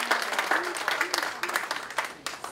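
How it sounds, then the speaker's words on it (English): Audience applause at a comedy hypnosis show, a crowd clapping in uneven bursts at moderate distance while a voice talks over it. "Give him a round of applause, ladies and gentlemen."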